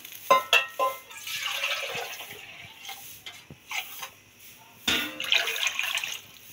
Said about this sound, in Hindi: अब हम इसमें पानी डालते हैं।